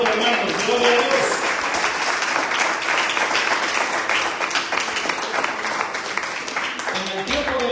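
A church congregation applauds the King of Glory during a sermon, with dense, sustained clapping over a mix of voices and cheering. The sound stays steady throughout and fades slightly near the end.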